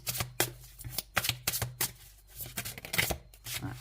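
Tarot cards shuffled by hand before a draw, a close run of crisp riffling slaps repeating in quick uneven bursts over a low steady hum, no talking.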